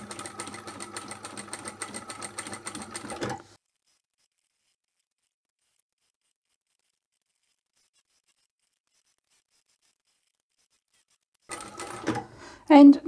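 A sewing machine stitches around the curved edges and shoulder straps of a beginner's produce apron, running in a steady dense whir for about three seconds, then falling silent before a brief burst of stitching and handling clatter at the end.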